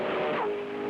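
An Indy 500 race car on track in 1976, its engine whining at a high pitch up close, with a quick dip as it eases off, loud and alone.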